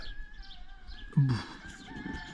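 A short burst of chicken clucking stands out against a quiet background on a rural Moroccan farm, with a few faint bird calls around it.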